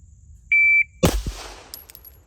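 A shot timer gives one sharp electronic beep, then a 1911 pistol fires a loud close shot with a quick second report and ringing decay, outdoors at a range.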